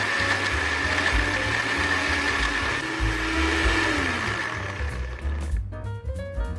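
A blender whirs steadily at high speed blending a coconut shake, motor droning and pitch shifting slightly, then winds down near the end with clinks.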